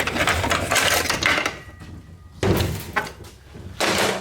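Heavy steel clutch drums pulled out of the transmission case of a 1985 Chevrolet Silverado C10, giving clanking metallic thunks and scraping in a few close, loud bursts separated by brief pauses.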